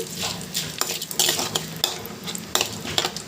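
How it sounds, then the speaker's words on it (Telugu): Chana dal and urad dal fry in oil in a pan, a soft steady sizzle broken by repeated scrapes and taps of a stirring spoon against the metal, close and without talk. "పచ్చనపప్పు మినపప్పు కొంచెం గోల్డెన్ కలర్ వచ్చే వరకు వేగనివ్వండి"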